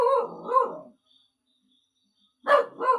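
A dog barks twice in quick succession, then falls silent before two more barks follow near the end, each bark close and fairly loud with nothing else around it.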